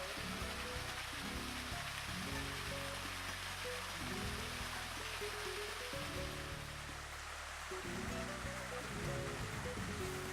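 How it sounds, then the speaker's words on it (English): A waterfall beside a pool in Costa Rica makes a steady, dense rushing wash that continues unbroken, with a faint low rumble beneath and no voices. "The sound of the waterfall downstairs by the pool invites us down."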